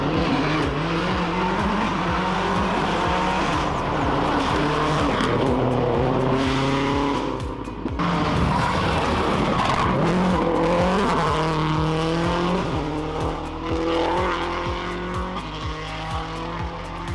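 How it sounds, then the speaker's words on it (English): Subaru Impreza S12 WRC rally car at a shakedown event, engine revving hard through gear changes with tires skidding and squealing, loud and continuous. "Dane Skeete and Tyler Mayhew with the Subaru Impreza S12 WRC."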